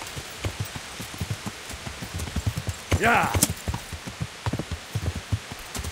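Rain patters steadily in the medieval game Kingdom Come: Deliverance, mixed with repeated clip-clop hoofbeats of a horse. A man gives a short shout partway through.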